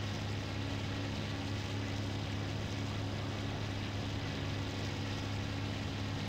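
Steady droning propeller engine of a World War II aircraft in flight in the IL-2 Sturmovik Battle of Stalingrad flight simulator, a constant low hum with airy rushing noise, unbroken and even, no talk.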